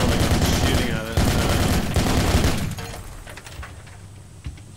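Loud, rapid automatic gunfire in a video game, dense bursts that cut off and fade after about three seconds into quieter game sounds.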